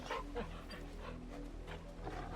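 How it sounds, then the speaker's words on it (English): Torgal, a dog companion in the video game Final Fantasy XVI, pants in short quick breaths with soft dog whimpers, close by over a steady low game hum. "Good thing Torgal is a dog and not a wolf, right?"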